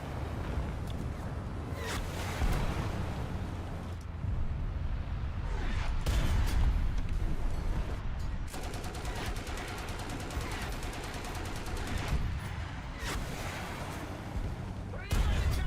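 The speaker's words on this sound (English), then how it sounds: "Somebody constantly shooting rockets." Rockets fired again and again in War Thunder, with sharp repeated blasts and bursts over a constant rumbling battle din, loud and close, with a voice speaking now and then.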